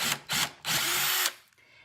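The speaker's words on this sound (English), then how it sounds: "I'll be using a drill, and I've used a small drill bit that will fit into each of these little indents" An electric drill with a small bit bores holes into the indents of a can, whining in three close bursts (two short, then a longer run) before stopping.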